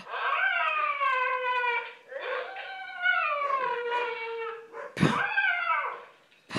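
A dog howls in long, wavering, rising and falling tones, several drawn-out howls in a row, close and clear with no talk over them.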